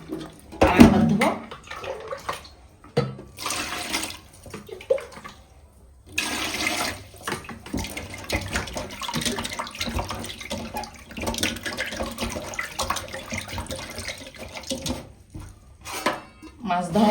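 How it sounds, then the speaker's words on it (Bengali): Water splashes and sloshes over bhola fish pieces in a bowl as they are rinsed, running in bursts with brief pauses, loud and close throughout. "মাছ ধোয়া হয়ে গেছে"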